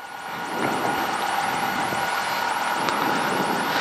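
Piston engine of a Piper Warrior light airplane droning steadily and loudly in the cockpit, a constant buzzing roar with a repeating whine sweeping throughout, no talk.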